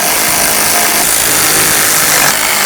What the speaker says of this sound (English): Start all of your nuts, snug them up.